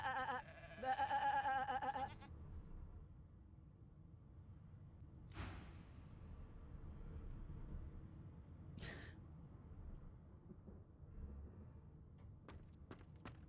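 Sheep in the Divinity Original Sin video game: a nasal bleat at the start, then quiet game ambience with a few sharp clicks and taps scattered through.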